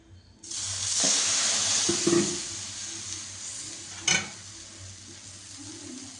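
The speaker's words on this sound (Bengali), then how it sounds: "এই জন্য আমি চামচ করে ঘুরিয়ে দিচ্ছি" A spoon is stirred through freshly ground mustard paste in a home kitchen, giving a steady broadband scraping hiss with a few sharper clinks near the start and middle, close and fairly loud, with no one speaking.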